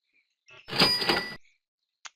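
A cash register chime from a warehouse management scanner confirms an accepted item during shipping. It is a short, bright electronic ring with a ka-ching, then a brief faint beep, in a quiet room with no talking.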